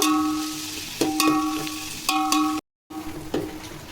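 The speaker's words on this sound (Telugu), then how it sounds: "ఇప్పుడు ఉల్లిపాయలు వేస్తాం. బాగా వేగాక" Onions frying in hot oil in a pan for coconut milk rice, a steady soft sizzle punctuated by a few sharp utensil clinks, with a brief dropout near the end.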